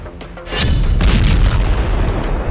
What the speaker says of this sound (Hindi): फिर जबरदस्त धमाके की आवाज के साथ दोनों प्लेन जमीन पर आ गिरते हैं